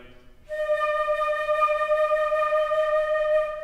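A single sustained flute note with a steady, even pulsing vibrato, clear and close, holding for about three seconds after a brief softer lead-in.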